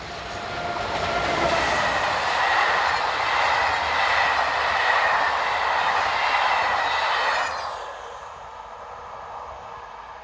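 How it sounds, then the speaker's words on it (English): A DB Cargo electric locomotive, class 186 number 186177 in Euro Cargo Rail service, hauls a loaded car-carrier freight train past at close range, a loud steady roar of wheels and wagons that cuts off sharply near the end, leaving quieter ambience. "Belonging to DB Cargo number 186177, operating under the Eurocargo rail banner, heads a loaded car train north towards Paris."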